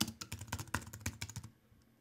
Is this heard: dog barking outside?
no